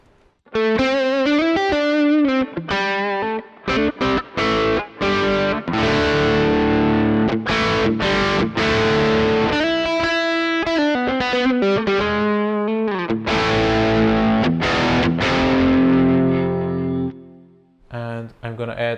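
An electric guitar plays through a Neural DSP Quad Cortex with distortion and reverb, loud chords and riffs with short breaks, and reverb tails ring out at the end.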